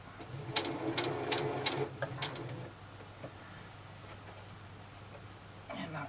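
A domestic sewing machine stitches a piece of scrap material in a short whirring run that stops with the needle down, followed by quieter handling and a brief final burst.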